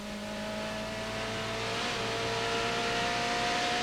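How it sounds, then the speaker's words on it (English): TVR Tuscan race cars accelerate along a circuit during a 1995 Tuscan Challenge race, a loud, steady engine roar that builds and holds through the whole stretch. "As the first three streak through, Station Hill Garage, Martin Short falling back"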